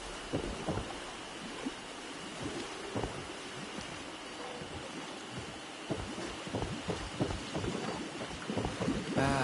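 Video game rainstorm with a steady hiss of heavy rain and low thunder rumbles that swell and roll throughout, dense and continuous with no talking.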